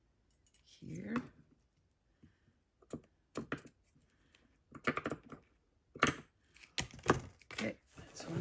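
Scissors cutting paper for a handmade nature journal cover make quiet, crisp snips at irregular intervals, a few isolated cuts followed by clusters of quicker snipping close by.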